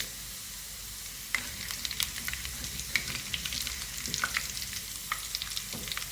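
Garlic, cumin and long dried red chillies sizzle in hot oil for a dal tadka, a soft steady crackle broken by sharper pops and occasional stirring, close and moderately quiet.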